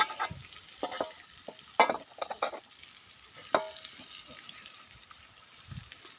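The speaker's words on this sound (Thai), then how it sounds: "ไก่ลงไปผัดพร้อมกัน" Chicken stir-fried in a hot wok, with scattered scraping clatters and a soft sizzle underneath, close by and uneven in rhythm.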